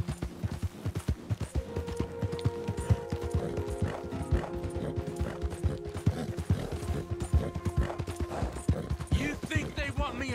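Horse hooves in the video game Red Dead Redemption 2 clip-clop in a steady walking rhythm under a musical score, with a horse whinnying briefly and characters talking over the hoofbeats.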